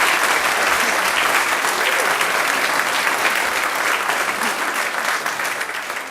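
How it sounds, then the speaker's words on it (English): A church congregation breaks into loud, sustained applause that fills the room evenly and begins to fade at the very end, with no talking over it. "You're supposed to applaud here."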